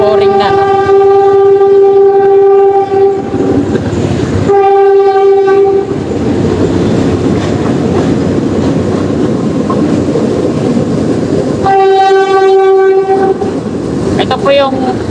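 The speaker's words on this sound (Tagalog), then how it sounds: "Ito po yung tren ng PNR bound to Tutuban" A PNR commuter train bound for Tutuban passes close by near the NLEX Connector construction along Ramon Magsaysay Boulevard. Loud horn blasts open and close it, with heavy rumbling and clattering wheels in between.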